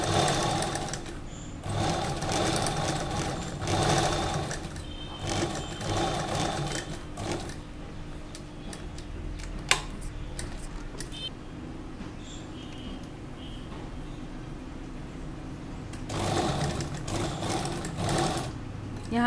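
Sewing machine stitching around the piped neckline of an Anarkali dress, its steady close-up mechanical whir running in stretches with brief pauses and small clicks between them, no talking.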